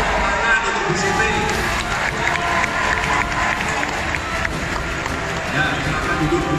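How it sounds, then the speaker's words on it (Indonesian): Audience applause at a government event honouring a woman, a dense roar of clapping and crowd noise in a large hall, loud and sustained, with voices mixed in. "Tepuk tangan untuk Bu Siti."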